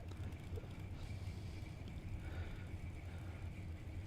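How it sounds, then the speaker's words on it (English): A drag race car with 3-inch diameter exhaust pipes idles loudly at the strip, a steady low rumble that holds throughout without pause. "Thing's loud, just idling."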